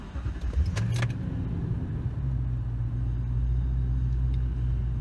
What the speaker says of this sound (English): Now we're gonna go ahead and crank the engine over.